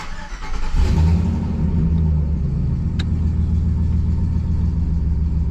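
A truck's junkyard 6.0 LS engine cranks and fires up, then settles into a loud, deep, steady rumbling idle close by.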